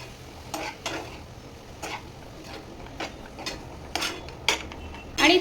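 A spoon scrapes and knocks against a pot as dill and moong dal are mixed together, several scattered stirring strokes and clinks over a quiet kitchen background, close and intermittent.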